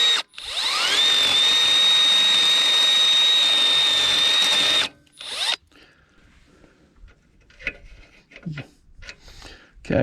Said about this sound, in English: I'm going to be using a 3/8 drill bit and just lightly scuff those out until my mounts will fit in there.